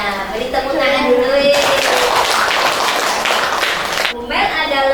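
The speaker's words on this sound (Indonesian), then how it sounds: "Beri tepuk tangan dulu." A classroom audience at a school lesson claps together for about two and a half seconds, a loud burst of applause between stretches of a teacher talking.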